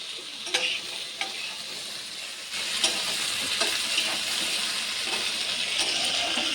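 Meat being browned and stirred in a pan for a home curry, giving a steady broadband sizzle with occasional scraping clicks from a spoon, louder and denser after the first couple of seconds, no voices.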